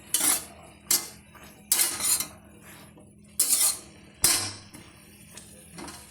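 A spoon scraping and clinking against a pan while paneer and green peas are mixed for a dhaba-style matar paneer, several bright clattering bursts separated by short pauses, close by, with no talking.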